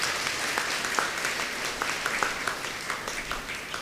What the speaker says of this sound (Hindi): तो इन लोगों के लिए एक बार जोरदार ताली बजाइएगा